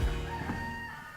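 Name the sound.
neighbor's rooster crowing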